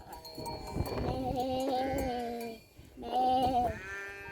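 Two close, loud goat bleats with wavering, nasal calls, separated by a short pause, with no talk over them.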